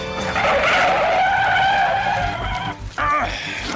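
A stolen truck tears away in an old radio drama, with a sustained loud tyre squeal and roaring engine that briefly cuts out before resuming.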